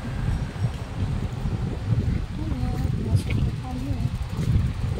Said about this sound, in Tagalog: Sobrang mahangin, grabe.